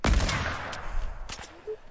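Gunfire in the video game Fortnite during a squads match: a loud, close burst of shots at the start followed by scattered fainter reports fading into the distance.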